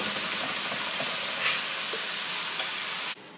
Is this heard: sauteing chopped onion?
yes